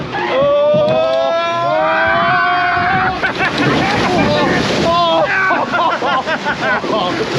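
A log flume boat on the Wild River ride at Skegness plunges down a drop and splashes through water, with loud rushing spray and wind noise while riders shout and scream throughout.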